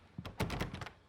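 A locked cabin door tried in the video game Alan Wake Remastered on Xbox Series X gives a short burst of dull thunks and rattling knocks, close and brief, with no voices.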